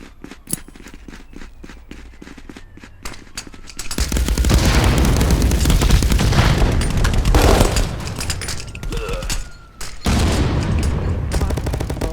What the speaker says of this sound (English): I'm hearing some gunfire off in the distance.